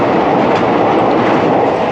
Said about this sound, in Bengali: নিউ আলিপুর থেকে ট্রেন ছেড়ে দিয়েছে শিয়ালদার উদ্দেশ্যে